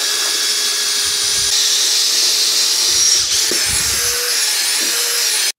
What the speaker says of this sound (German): weswegen ich mal die Drehzahl von meinem Akkuschrauber erhöhe, um einfach noch die restliche Masse von dem Quirl runterzubekommen